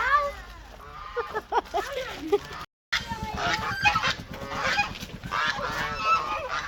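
Domestic geese honking outdoors in a series of loud, nasal calls, with a person talking over them and a brief dropout partway through.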